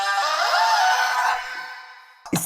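An Otamatone Neo on its synthesizer effect plays a bright, buzzy tone with sweeping pitch glides that fades out after about two seconds, followed by a short thump.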